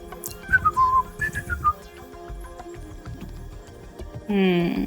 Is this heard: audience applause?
no